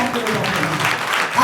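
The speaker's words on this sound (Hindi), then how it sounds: "जोरदार तालियां बजा के 2023 में यीशु को बुलाते हुए" A church congregation at a New Year prayer service applauds loudly, a dense wash of clapping with voices mixed in, sustained through a short burst.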